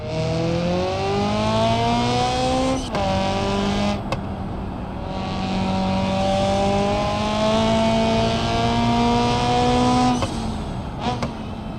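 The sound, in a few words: four-cylinder car engine in video game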